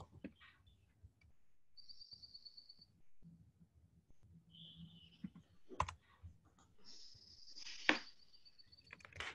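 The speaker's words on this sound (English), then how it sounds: "I'm just typing in the headings here." Quiet keystrokes tap at a computer keyboard in scattered bursts with pauses, faint and close, with a few brief high chirps and a couple of louder knocks in between.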